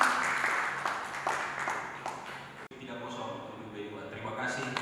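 Audience applause at a Lions Club Makassar iftar gathering, a steady wash of clapping from a room full of people that carries on for several seconds, with a brief drop partway through as it continues under background voices.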